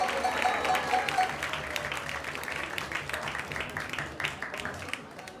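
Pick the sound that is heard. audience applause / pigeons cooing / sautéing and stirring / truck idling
audience applause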